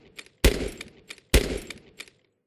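Two loud, sharp sniper rifle shots in an Unreal Engine 5 game, each followed by a short decaying tail, with faint clicks of handling and reloading between them.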